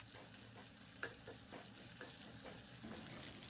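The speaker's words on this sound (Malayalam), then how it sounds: "അപ്പോൾ നമുക്ക് ആദ്യം ജിഞ്ചർ പിന്നെ ഗാർലിക് വെച്ചിട്ടൊന്ന് ജസ്റ്റ് ഒന്ന് ഫ്രൈ ചെയ്ത് കൊടുക്കാം" Ginger and garlic fry in a pan for a mushroom pepper dish, giving a soft, steady sizzle with a few light stirring clicks. The sound is fairly quiet and close, and no one speaks.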